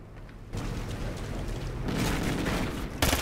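LMG hip-fire in Call of Duty: Ghosts, a dense burst of rapid automatic gunfire that starts abruptly and keeps rattling, swelling louder toward the end with a sharp final crack.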